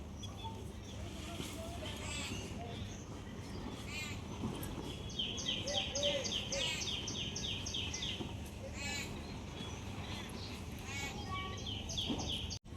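Birds chirping in a park, with short bursts of high tweets and calls scattered over steady outdoor background noise, faint to moderate and coming from some distance.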